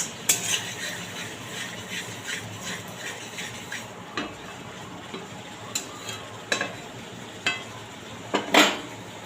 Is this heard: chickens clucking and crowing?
no